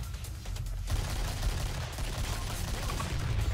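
Shotgun fire in the Killing Floor shooter game, loud and dense, with rapid blasts piling into an almost continuous barrage throughout the short stretch, no voices.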